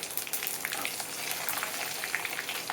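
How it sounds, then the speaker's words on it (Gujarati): Whole spices for a Surti dal, cumin, bay leaf, star anise, cinnamon and cloves, sizzle in hot oil, a steady, dense crackle that runs unbroken and close throughout. "પછી નાખવાનું જીરું, પછી આ તમાલપત્ર, બાદિયા, જીરું, તજ, લવિંગ, સૂકા ખડા મસાલા બધાય"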